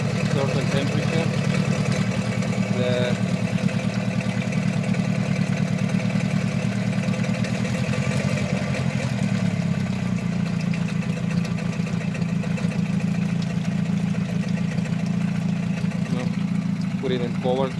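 A 2006 Mercury 15hp outboard engine idles steadily while warming up from a cold start, a close, continuous mechanical putter with light clatter throughout.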